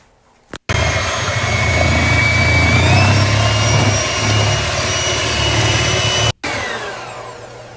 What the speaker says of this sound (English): Beat egg whites with mixer.